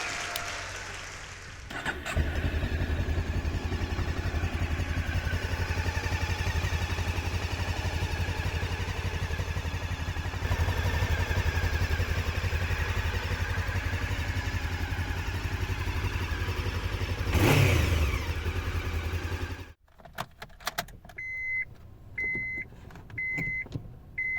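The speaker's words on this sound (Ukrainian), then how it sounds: "Ви чуєте роботу мотора? Його практично не чути." A steady, fairly quiet Honda engine hum runs continuously for most of the stretch, then cuts off, leaving a quieter interior with soft clicks and beeps.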